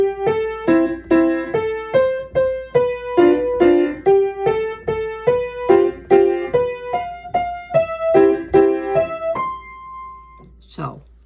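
Piano plays the opening line of Dance of the Hours as a beginner exercise, a clear sequence of single notes in a steady bouncing rhythm, close and alone, ending with a brief soft knock.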